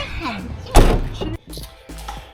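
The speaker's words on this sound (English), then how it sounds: "I'm gonna shut my door." A home door swings shut with one solid thump, followed by a few softer knocks and rustles.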